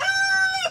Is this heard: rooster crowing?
yes